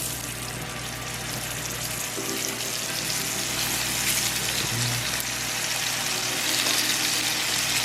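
Food frying in a pan coated with a good amount of avocado oil: a loud, continuous hissing sizzle, steady and close throughout, with no talking.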